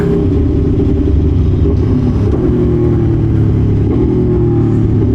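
An Aprilia Tuono V4 1100 Factory motorcycle with a quick shifter holds a steady, loud engine drone at highway speed, with heavy wind rush and no talk.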